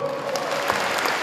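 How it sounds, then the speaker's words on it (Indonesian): Audience applause at a community event, a dense burst of clapping that runs steadily through the short moment without voices. "Kita beri tepuk tangan untuk acara Arum Dalu."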